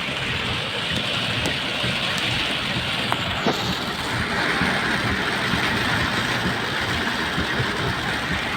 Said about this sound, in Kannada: ಅಷ್ಟು ಜೋರಾಗಿದೆ ಮಳೆ